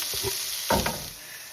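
Small onions sautéing in hot oil in a pan for an asparagus thoran stir-fry: a steady close sizzle with two louder bursts of stirring and scraping.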